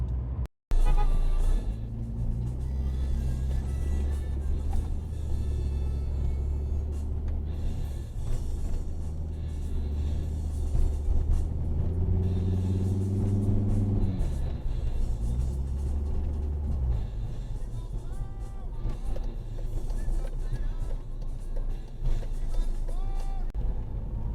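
A car drives along a road, its steady low engine rumble and tire noise running continuously at close range for over twenty seconds inside the cabin, without obvious speech.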